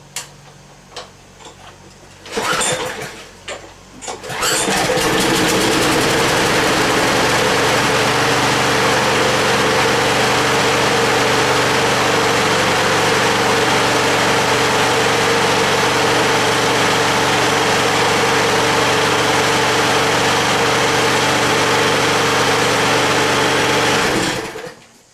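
A small lawnmower engine with a primer bulb sputters through a couple of brief pull attempts, then catches and runs at a steady, loud idle for about twenty seconds before cutting off.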